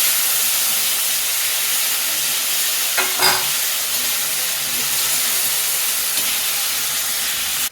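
Tomatoes sautéing in a pan while a steamed bajra dish is prepared, giving a steady, close sizzle with a brief scrape of stirring in the middle; nobody speaks.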